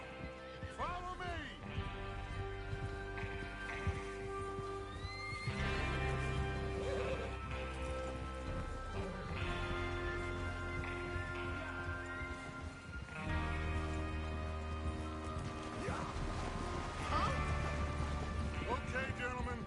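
Several horses in the video game Red Dead Redemption 2 whinny and neigh repeatedly, with hooves clopping and shuffling beneath a low music bed, the calls coming in bursts throughout.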